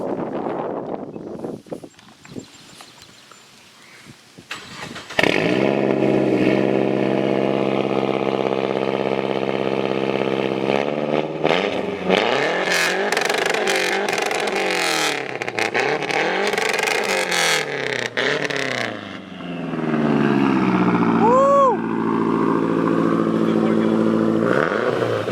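A motorcycle engine fires up after a quiet start and then revs loudly and repeatedly, with rising and falling swoops and a blow-off valve hiss near the end, recorded close by.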